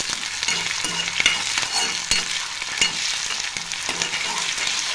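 Chopped onions with half a teaspoon of ginger-garlic paste frying in a pan for a ridge gourd and chana dal curry, a steady close sizzle with periodic stirring scrapes throughout.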